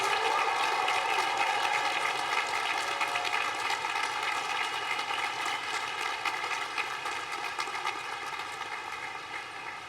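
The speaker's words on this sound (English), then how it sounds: "let's have one more round of applause for the Emory University class of 2023" A large crowd applauds continuously at a university commencement for the graduating class, a broad, even roar of clapping under sustained tonal hum that slowly fades over about ten seconds.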